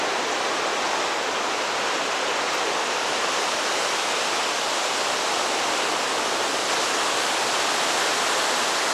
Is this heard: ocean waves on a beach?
yes